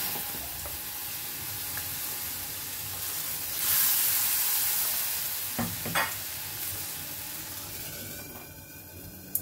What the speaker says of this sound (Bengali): আবারও হাতায় করে ব্যাটারটা দিয়ে দেবো।